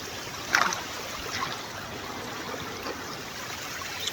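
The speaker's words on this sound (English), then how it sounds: "Bit of mountain water." Mountain stream water flows in a steady, soft rushing wash on a misty high peak, with a faint splash near the start and no voices.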